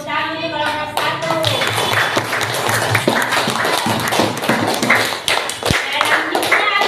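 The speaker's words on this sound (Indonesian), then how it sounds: "Tepuk tangan untuk kelompok 1." A classroom of children claps hands for group 1 in a primary school lesson, with scattered, uneven clapping that builds into steady applause lasting several seconds, mixed with children's voices.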